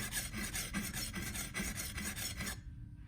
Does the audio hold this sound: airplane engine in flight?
no